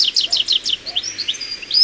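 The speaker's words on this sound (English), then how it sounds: "goldfinch" A goldfinch sings a quick, high twittering run of chirps and trills that shifts into short, varied notes. It is moderately loud and clear, and no voices are heard.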